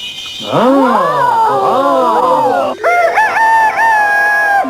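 A cartoon rooster gives a loud, long cock-a-doodle-doo crow with wavering, swooping pitch, followed by a few shorter, higher clucking calls from a chicken, all close and clear with no talking.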